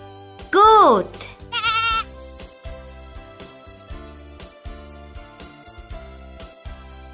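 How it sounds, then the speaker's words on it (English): A goat bleats twice in quick succession, loud and close: a wavering, quavering cry followed by a shorter one, over a soft steady musical background with no talking. "Goat."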